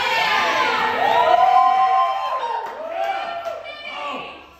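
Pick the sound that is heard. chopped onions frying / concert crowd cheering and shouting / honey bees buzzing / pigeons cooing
concert crowd cheering and shouting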